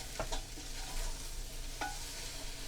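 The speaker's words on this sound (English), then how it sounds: "And we're just going to stir this up" Tomato paste being stirred into a beef stew pot, a soft, steady scraping and sizzling with a few brief clacks of the spoon against the pot, close and low in volume.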